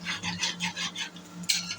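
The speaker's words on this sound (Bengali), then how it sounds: "এভাবে হালকা করে আপনারা ভেজে নেবেন বিরিয়ানিতে দেওয়ার জন্য" Potato pieces are lightly fried in a pan for biryani, a gentle sizzle broken by rhythmic scraping strokes of a spatula stirring them, close and fairly quiet.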